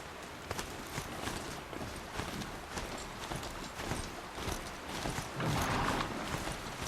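Hooves of a mechanical horse in Horizon Zero Dawn clop steadily in a quick walking rhythm over outdoor ground, moderately loud with faint ambient game sound beneath and no talk.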